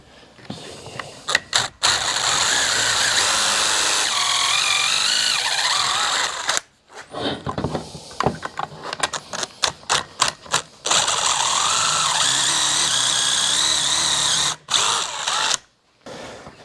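A power drill bores pocket holes through a clamped 3/4-inch wood workpiece, whirring loudly in several long runs broken by short bursts and stops, close and with no talking.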